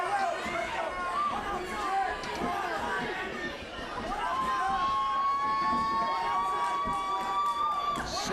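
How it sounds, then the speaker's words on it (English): Spectators at an LFA bantamweight title MMA fight shout and scream in a dense, continuous roar of cheering and chatter, with many voices overlapping throughout. "Several crazy screaming ladies in the crowd tonight."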